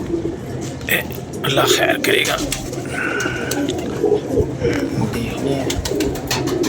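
Pigeons kept by a pigeon fancier coo in soft, repeated throaty phrases, with a brief voice and scattered handling noises around them in a lively, close setting.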